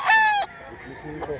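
A rooster crows loudly and close at hand in one strong, harmonic call lasting under half a second, the bird being sold at a market of fighting and breeding chickens. Quieter clucks and low murmurs from the crowd follow.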